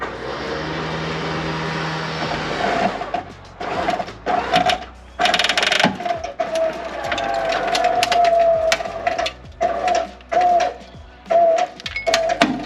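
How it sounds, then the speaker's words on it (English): A vehicle winch pulls on a budget drag-race car, a loud, close motor whine that runs in several bursts of a second or two, separated by short pauses, with clanks and creaks between pulls. "let's see what my winch got"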